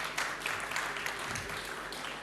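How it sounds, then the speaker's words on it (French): An audience at a French property-market conference gives a short round of applause for a guest speaker, a vice-president of operations, with clapping that stays even throughout and is soon over. "Vous pouvez l'applaudir, hein, bien sûr."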